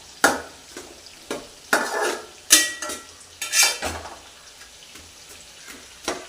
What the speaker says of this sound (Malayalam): സവാള ഒരു പച്ചമുളകും കൂടെ ഇങ്ങനെ വഴറ്റുന്നുണ്ട്